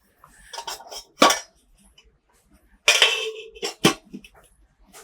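Old metal spice boxes clatter and clink in a few separate bursts of handling, close and sharp, with quiet gaps between the knocks.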